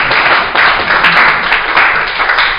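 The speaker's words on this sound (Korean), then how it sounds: "이러면 박수 쳐야 되는데" Lecture-hall audience at a university special talk breaking into dense, sustained clapping that fills the whole stretch at a steady, fairly loud level, with no one speaking over it.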